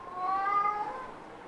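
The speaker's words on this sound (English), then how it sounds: "That's my cat." A pet cat gives a single drawn-out meow, close and clear, rising then falling over about a second, with no talking over it.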